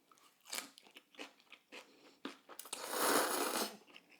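Close crunchy chewing of cold sesame noodles with sesame seeds and nuts, a run of crisp irregular bites with a denser grinding burst near the end, alone with no talk.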